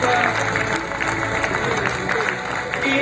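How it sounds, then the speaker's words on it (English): An audience at an awards ceremony for a maternal and child health conclave claps steadily, mixed with crowd noise and some cheering, and a voice speaks over it. "Big round of applause for the District Bandipora."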